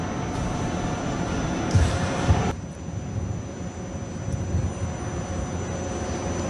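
Jets from a formation aerobatic display at the Dubai Air Show, with Su-30, Rafale, F-16 and Mirage 2000 aircraft, roar in a steady broadband engine wash that surges briefly and then settles into a continuous distant drone.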